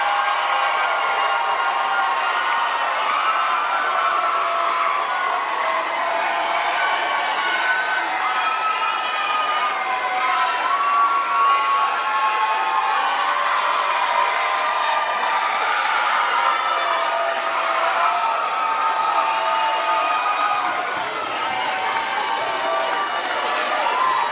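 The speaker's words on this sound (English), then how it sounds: "Let's have a huge round of applause for our 8th grade class of 2020." A crowd at an 8th grade moving ceremony cheers and claps for the graduating class, a dense, loud, sustained roar of applause and shouting that fills the whole stretch with little variation.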